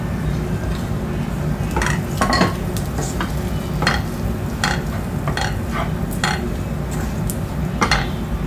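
Spoon stirring chili and coriander powder into sautéed onions in a pan for a Kerala-style beef dish, with repeated scraping strokes and clinks over a steady low sizzle.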